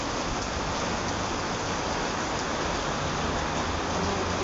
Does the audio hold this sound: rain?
yes